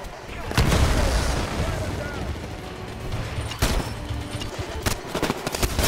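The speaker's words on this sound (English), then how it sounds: "That was 3 shots!" Gunshots and booming impacts from the mech shooter Titanfall crack out over steady battlefield rumble, a few distinct sharp reports spaced across the stretch, loud and close amid game noise.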